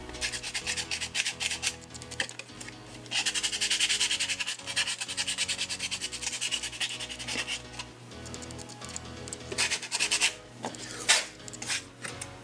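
Sandpaper rubbed over the edges of a vacuum-formed plastic stencil for crankbait painting, a close, continuous scratchy rasp in repeated back-and-forth strokes with no talk.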